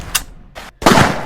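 Pistol shots ring out in a video game arena match: a quick sharp shot, a second after a short gap, then a louder burst of gunfire, all close and punchy with no voices.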